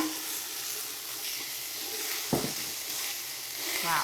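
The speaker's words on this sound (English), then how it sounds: "we're just going to brown some beef with an onion over about medium heat in a large skillet" Beef and onion brown over medium heat in a large skillet, giving a steady close sizzle and hiss with a brief utensil knock partway through.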